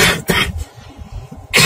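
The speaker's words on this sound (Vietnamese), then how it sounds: "xin lỗi mọi người vì ho." A person coughs twice, sharp loud bursts at the start and end, with quieter breathing and throat noise between them.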